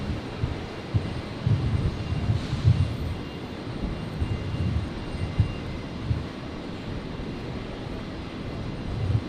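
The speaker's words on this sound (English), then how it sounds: "And I think the Rex is on the roll now behind." A Rex airliner rolls for takeoff on runway 01 right at Brisbane International Airport, a steady distant engine roar with low rumbling that holds evenly throughout.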